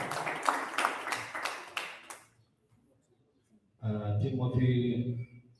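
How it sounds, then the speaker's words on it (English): An audience at a leadership training session claps for a speaker, a dense burst of applause for about two seconds, then a pause, then a voice speaks. "Can we clap for him once more on the right hub?"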